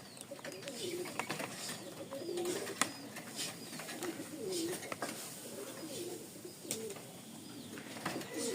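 Pigeons cooing in repeated low, throaty phrases with light wing flutters and small movements, close by and moderately quiet, with no one talking.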